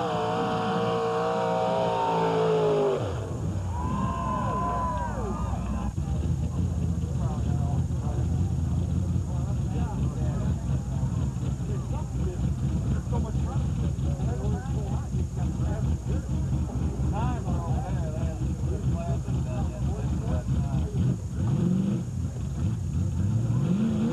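A Toyota Pro Stock drag race car with a 410 cubic inch engine revs loudly and continuously at a drag strip, a dense roar over an announcer talking and crowd noise.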